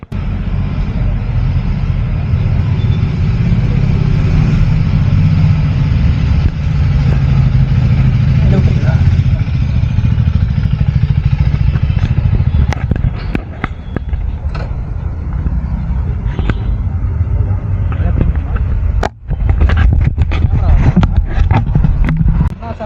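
A KTM Duke 390 motorcycle engine runs with a steady low rumble after its first service, then later sputters and revs unevenly; voices are heard faintly beneath the engine.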